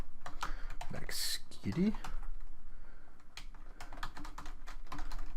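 Typing on a computer keyboard, entering a username and password in a cybersecurity exercise: a run of light, close key clicks in quick irregular rhythm, with a voice speaking briefly over them.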